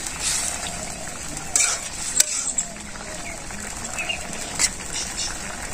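Fish frying in a pan with coriander and cumin powder, a steady broadband sizzle throughout with a few brief clinks of a utensil stirring, close and moderately loud.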